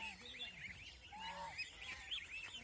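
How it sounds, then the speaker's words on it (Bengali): Large domestic geese on a goose farm honking in overlapping, repeated nasal calls, a busy flock chorus heard from a distance against quiet low background noise. "বড় হাঁস"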